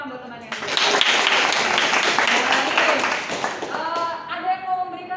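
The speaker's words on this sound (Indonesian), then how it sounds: "Cakap boleh tepuk tangan buat temannya." A class of students bursts into applause, loud dense clapping for about three seconds, then it thins out as voices start talking over the fading claps.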